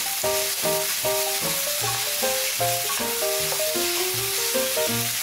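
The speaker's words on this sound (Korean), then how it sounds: "당근이 익은 듯하면 떡, 홍고추, 풋고추를 넣고 볶아주세요" Rice cakes, carrots and red and green chili peppers stir-fried with a constant hiss of sizzling, heard beneath loud background music.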